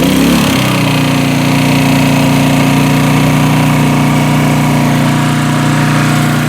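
A small portable generator engine runs loud and close at a steady idle, a constant buzzing drone right after a brief start.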